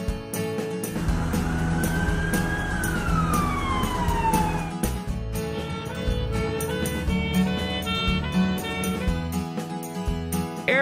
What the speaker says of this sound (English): Ambulance van.